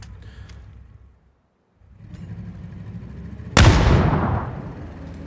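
A single heavy grenade blast in PUBG, one sudden booming explosion that rolls off into a decaying rumble, following a stretch of quiet low ambience with a short silent gap.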